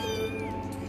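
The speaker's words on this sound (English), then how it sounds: "So, we have six kittens." A thin, high meow from week-old kittens in a litter of six, close and alone, with a brief wavering cry.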